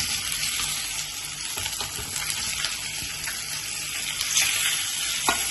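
Boiled potatoes dropped into hot oil with hing, cumin, turmeric and red chilli give a loud, steady, hissing sizzle that fills the whole stretch, with a few sharper crackles near the end and no voices.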